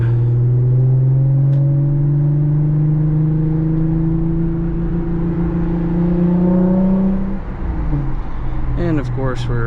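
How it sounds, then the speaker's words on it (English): An Audi SQ5 with AWE downpipes and a Touring catback exhaust drones loudly from inside the cabin in manual mode with the pitch slowly climbing, then a quick throttle blip marks a downshift from third into second in traffic. "That's dropping into second, which sounds great."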